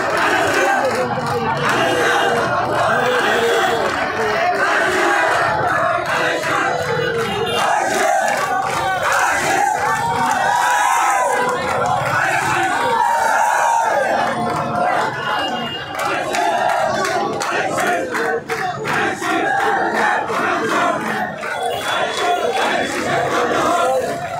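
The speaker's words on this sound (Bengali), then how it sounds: "দলীয় প্রতীক ধানের শীষের স্লোগান দিচ্ছে নেতা কর্মীরা।" Party workers of a student wing chant slogans for their party symbol at a street rally, a loud, continuous crowd of massed voices shouting in rhythm throughout.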